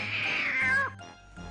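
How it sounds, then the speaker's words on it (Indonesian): A cat gives a single drawn-out meow with a falling pitch, clear and fairly close, followed by quiet. "Suara kucing kan?"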